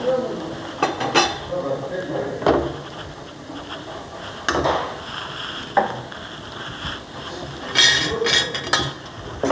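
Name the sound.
stirring egg bhurji in a pan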